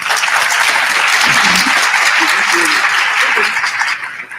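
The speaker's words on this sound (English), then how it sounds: "Ladies and gentlemen, please give this distinguished panel a round of applause." An audience at a leadership symposium applauds a distinguished panel, loud and sustained clapping that fills the room and begins to fade near the end.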